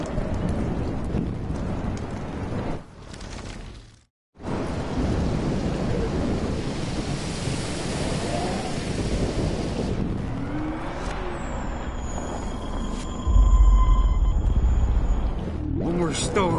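A raging storm from Life is Strange batters the scene with steady roaring rain and wind, briefly cutting out before returning, with rumbling and rising tones later as people speak over it.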